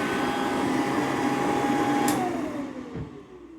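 A 1910s-1920s Eureka vacuum cleaner runs with a steady, fairly quiet motor drone and high whine, then the pitch slides downward as it winds off near the end, with no talk.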